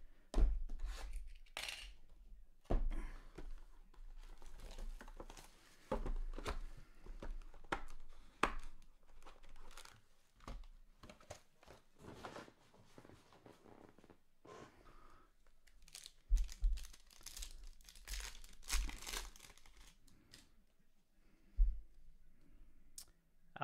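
Trading card packs from a 2021 Topps Chrome Black case being cut open one after another: close, faint clicks, crinkly rips and rubbing of foil wrappers in irregular bursts, with no talk.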